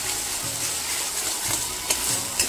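Poppy seed paste being sautéed in a pan gives a continuous close sizzle with faint stirring and a couple of light scrapes toward the end.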